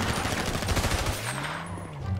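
Rapid bursts of automatic gunfire in a GTA V zombie apocalypse game, a dense volley that tapers off into engine-like drone with no one speaking.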